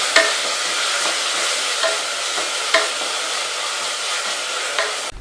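Crushed ginger and garlic stirred in a hot pan: a steady, close frying sizzle runs throughout, broken by a few sharp spoon scrapes against the pan at irregular intervals, with no voices.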